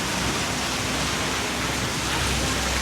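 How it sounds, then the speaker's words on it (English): Heavy rain pours down during a storm in Trang, Thailand, a dense, steady hiss with no breaks, loud and close. "wait for the storm to pass. But you can see it's coming down pretty good."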